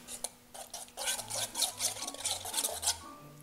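Mayonnaise sauce mixed with rice vinegar is stirred in a bowl, giving quick, close scraping and rubbing strokes in an uneven rhythm.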